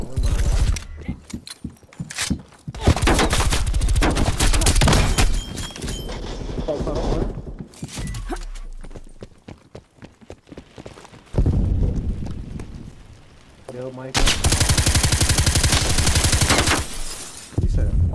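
Stoner light machine gun firing in Call of Duty Cold War multiplayer, loud extended automatic bursts separated by quieter gaps, with a player talking and game radio callouts mixed in.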